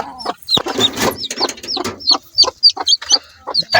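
Mother hen clucking beside newly hatched chicks, a close, loud run of short clucks and bright high chirps repeating in a quick irregular rhythm with brief pauses between calls.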